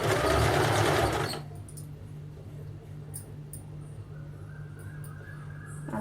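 A sewing machine stitches along the folded edge of a salwar, ladies' pants, with a loud burst of fast whirring stitching that slows into a quieter steady hum.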